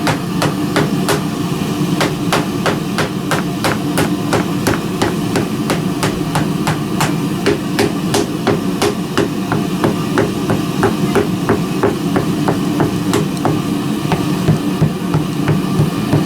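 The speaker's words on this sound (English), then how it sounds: "This is just giving some extra compression to the sand before we fill the other side." Repeated sharp tapping and pounding, a steady series of hits over a constant low rumble, as sand is rammed firmly into a casting mold for a pirate wheel.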